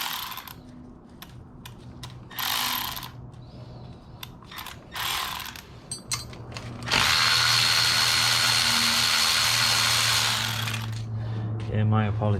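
A ratchet wrench clicks rapidly while backing out the clutch bolts on a Triumph Tiger/Sprint ST motorcycle, with short bursts early on and then a long, loud, close run of ratcheting near the end.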